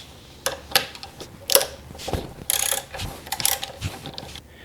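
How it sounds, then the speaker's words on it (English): A 12mm socket ratchet loosening the two brake caliper bolts on a Yamaha FJR1300 motorcycle, with bursts of close, crisp pawl clicking separated by short pauses and metallic taps. "With a 12mm socket, we're going to take off the two bolts."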